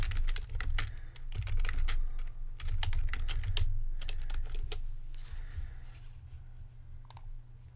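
Rapid keystrokes on a computer keyboard, clicking in quick irregular bursts with short pauses, close and fairly clear over a low steady hum.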